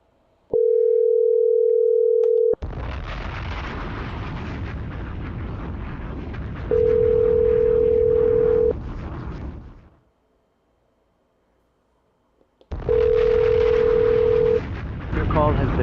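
A phone call ringing out unanswered, with three long steady ringback tones spaced several seconds apart, separated by loud broadband noise, and the line goes quiet between rings.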